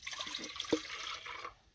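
One cup of water poured into a kettle for tea at an off-grid hot tent camp, a short, soft splashing trickle lasting over a second before fading, with no speech.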